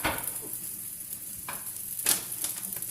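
Green beans heating in a pan give a soft steady sizzle with a few stirring scrapes and sharper crackles, close up and fairly quiet, with no talking.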